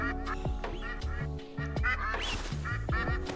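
Ducks or geese in a hunting video game quack and honk repeatedly in rhythmic, overlapping calls, fairly close over a steady background ambience with no talking.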